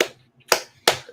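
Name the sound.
slow clap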